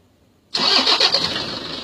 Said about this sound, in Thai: แต่ผมกดสตาร์ทด้วยรีโมทครับ